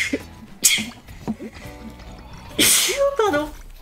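A single sharp sneeze bursts out amid casual French chatter during a co-op game session, followed by a second noisy exhale and a brief vocal reaction, close to the microphone.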